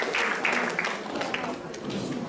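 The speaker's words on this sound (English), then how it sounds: "So give her a big round of applause." Applause from an audience at a Black History Month event, a short burst of scattered clapping mixed with crowd murmur and voices.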